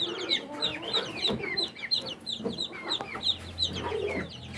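Ducklings alongside Rhode Island chicks and native chicken chicks in a brooding cage, giving nearby, continuous high peeping and chirping with overlapping calls and soft clucking throughout.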